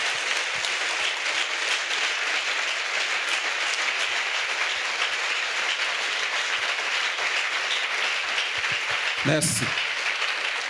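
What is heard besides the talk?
congregation applauding, clapping for Jesus Christ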